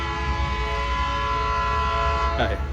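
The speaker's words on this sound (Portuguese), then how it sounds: "tem trem também" A train passing near the Coffee Museum in Santos, Brazil, with a steady, loud rumble and sustained horn-like tones throughout, heard close.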